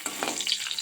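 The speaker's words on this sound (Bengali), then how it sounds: "ডিমটা ভাজা করছি।" An egg fries in a pan, giving a brief, close sizzle with a few light crackles and a soft scrape of a utensil.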